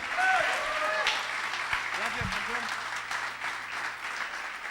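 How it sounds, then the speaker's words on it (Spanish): A church congregation applauds steadily at a moderate distance during a Spanish-language Sunday service, the clapping continuous and fairly even while a voice speaks briefly over it. "Dele un aplauso a Jesús"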